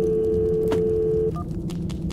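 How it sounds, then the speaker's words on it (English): A telephone in a Roblox dollhouse robbery game gives a steady electronic tone for about a second, then cuts to a brief, fainter beep over a low background hum. "let me see if I can answer this phone"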